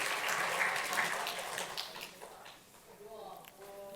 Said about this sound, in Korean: 박수 한번 쳐주시고 앞으로 나오세요.